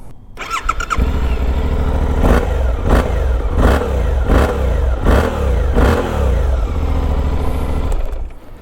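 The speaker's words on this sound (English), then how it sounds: "Such a sweet sounding motorcycle, man." A Suzuki V-Strom 800DE parallel-twin engine with a 270-degree crank starts and runs with a throaty rumble, revved in a series of regular bursts before settling and cutting off.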